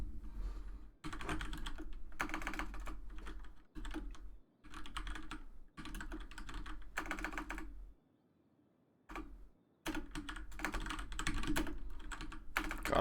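Rapid typing on an angled computer keyboard, dense bursts of close key clatter broken by short pauses, with no talk over it.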